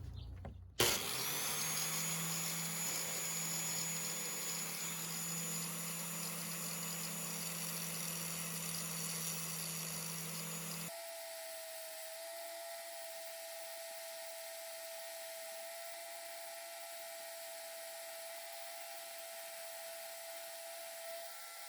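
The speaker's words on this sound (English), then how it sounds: "But we're going to turn the grinder on. What I'm going to do is I'm going to work this basically in a little arc shape so I can grind a little dome onto the end of this screw." A bench grinder grinds a small dome onto the end of a screw, with a loud, steady motor whine and abrasive hiss for about ten seconds before dropping to a quieter, thinner hum.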